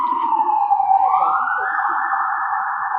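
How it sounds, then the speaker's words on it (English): An emergency siren wails loudly and continuously, its pitch sweeping and shifting as the vehicle passes nearby. "Let the siren pass."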